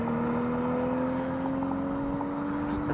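A 2023 BMW six-cylinder engine drones steadily as it accelerates down the track at a motorsports speed event, a loud, continuous tone that rises slightly in pitch with no talking.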